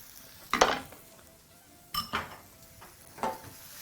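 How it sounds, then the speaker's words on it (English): A kitchen knife scrapes leftover minced garlic off a metal garlic press: three short, separate metallic scrapes and clinks, close and fairly quiet, with a faint sizzle from a pan behind them and no talking. "using your knife, proceed to scrape off a bit of that garlic that's still attached to your garlic presser"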